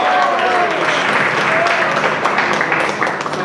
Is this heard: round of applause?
yes